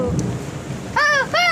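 Thunder rumbles low and hollow during a storm for most of a second, then a voice cuts in with loud calls.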